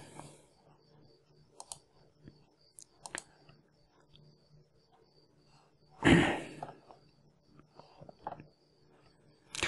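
A computer mouse clicks now and then to open a downloaded file, sharp isolated clicks spread across a quiet room, with one louder rustling burst midway and no speech.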